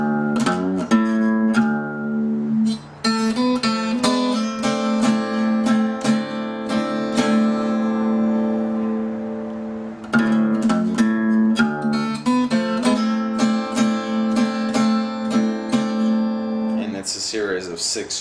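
Acoustic guitar fingerpicking a Delta blues bass-string part, steady plucked notes ringing over a droning low string, played solo and close.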